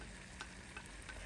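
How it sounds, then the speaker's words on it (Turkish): Fried vegetables stirred into a tomato paste sauce in a pot give a soft, steady sizzle with a few faint scraping clicks of the spoon. "Sebzelerimizi ekledikten sonra şöyle güzelce bir karıştırıyoruz."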